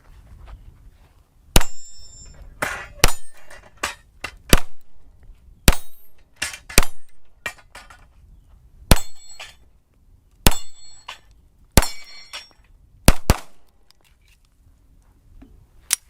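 A 9mm 1911 pistol fired at a steady, unhurried pace, about a dozen sharp, loud, close shots spaced a second or so apart, with ringing tails and no talk.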